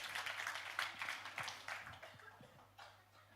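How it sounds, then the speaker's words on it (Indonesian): Church congregation clapping, a steady patter of many hands under a low hum of room noise, moderately loud and slowly fading. "Tepuk tangan dong"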